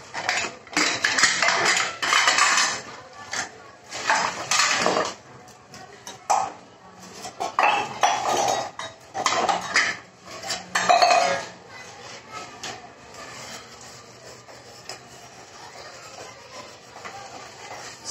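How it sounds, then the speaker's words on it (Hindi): Dishes are scrubbed with soap and a scouring pad at a kitchen sink, giving close, irregular scraping and rubbing with clinks of pots and utensils while someone talks over it. "मैं भी साबुन से ही मांजती हूँ बर्तन, और चिकनाहट ये वाला जूना है, ये इस जूने से मांजती हूँ मैं"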